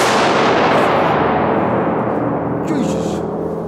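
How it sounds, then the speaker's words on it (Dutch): A large firecracker bursts loudly with a broad, sustained roar that fills the whole span and slowly tails off, with no talk heard over it. "Een pilikrekker, een grote."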